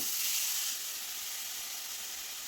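Grated carrot frying in hot ghee in a pan gives a steady, close sizzling hiss that eases slightly after the first moment and carries on alone.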